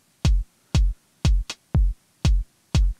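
A drum machine plays a house beat of punchy, evenly spaced kick hits about twice a second. One extra hit lands early, just before a downbeat, and the pattern is heard alone and clean.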